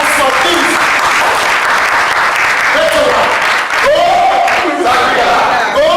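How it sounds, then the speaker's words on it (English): Loud applause mixed with cheering, whoops and shouting from a conference crowd at a hotel inaugural event, greeting a panel; voices call out over continuous clapping throughout. "A round of applause to our panelists."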